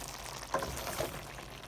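Vegetables for a vegetable dum biryani cooking in a pan after salt is stirred in, giving a soft, steady sizzle with a couple of faint stirring knocks. No one speaks.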